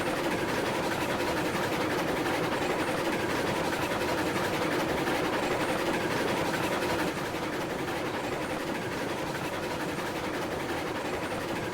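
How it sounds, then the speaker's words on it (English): A train rolls across freshly laid track in the Railroads Online video game, producing a steady, continuous rumble and rattle that holds evenly with no pauses and no talk. "So take your train across it."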